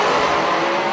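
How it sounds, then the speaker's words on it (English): A nitrous-powered radial drag racing car blasts off the line, a loud, dense, roaring engine burst close by, sustained through the whole short moment. "Here comes the nitrous car."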